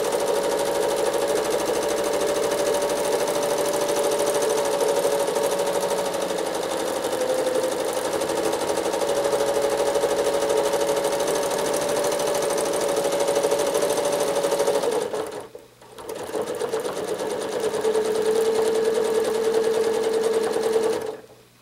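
Sewing machine free-motion quilting a spiral, its steady motor hum running loud and continuous, briefly stopping near the end before resuming at a slightly higher pitch.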